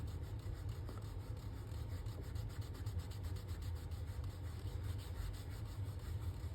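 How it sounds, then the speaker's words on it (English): Stain remover is rubbed lightly into tooling leather, giving a steady, close, scratchy friction sound that continues without a break, with no talking. "Just rub it in lightly."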